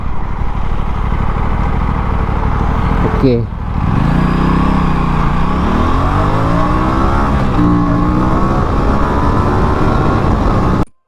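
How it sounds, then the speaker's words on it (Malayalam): An Aprilia RS 457 motorcycle accelerates hard in a 0 to 100 run, its engine note climbing through the gears with brief dips at each shift, loud and close, with a short spoken word early on. "നമുക്ക് എന്തായാലും 0 to 100 ഒന്ന് നോക്കാം."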